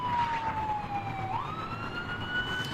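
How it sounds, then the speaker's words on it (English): A wailing emergency siren sweeps in pitch, dropping then rising again, steady and fairly loud over a constant rumble of traffic. "You can hear sirens behind me."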